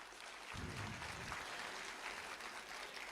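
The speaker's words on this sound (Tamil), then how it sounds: "எல்லாரும் பலத்த கைத்தட்டல் கொடுத்துடலாம்." An audience at an award ceremony breaks into broad, sustained applause, a dense wash of many hands clapping that carries on steadily without pause.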